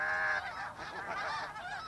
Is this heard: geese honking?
yes